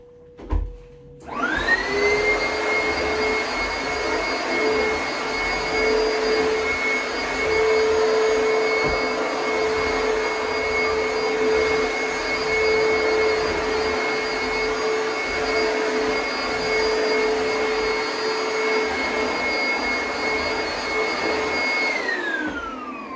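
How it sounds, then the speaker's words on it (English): A vacuum cleaner runs continuously while vacuuming a bedroom, switched on with a rising whine and then holding a steady loud drone with high tonal whistles for over twenty seconds. "vacuuming."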